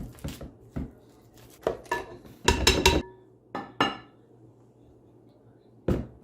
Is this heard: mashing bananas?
yes